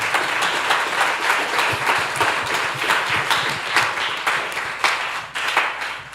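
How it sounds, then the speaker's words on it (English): A room of people at a youth council meeting claps for young people from Barbuda, a moderate, even applause with distinct individual claps audible, fading slightly toward the end. "I want you guys to give them another round of applause"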